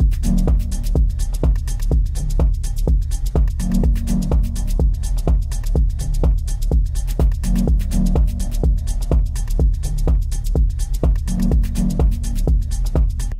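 A hard techno track pounds along with a steady, driving kick and dense percussive hits, loud and continuous throughout.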